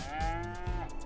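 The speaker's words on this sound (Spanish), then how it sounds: "Y todo esto que tenemos aquí, pues mirad cuántas vacas." Cattle lowing in the Farming Simulator 22 farm game, two long moos close together over a steady low hum, near and clear with no voices.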